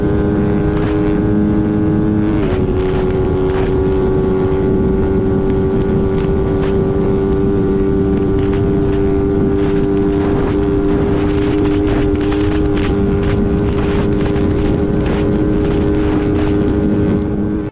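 A Yamaha Raider 150 Fi motorcycle engine holds a steady, high-pitched drone at top speed near 174 km/h, loud and continuous with a slight pitch shift early on and no talk over it.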